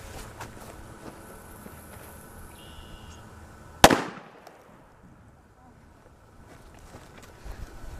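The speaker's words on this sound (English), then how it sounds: "First I have a standard issue 2-inch cracker for comparison." A single standard 2-inch red firecracker goes off outdoors near beer cans in one loud, sharp bang, followed by a short decaying echo, with wind noise before and after.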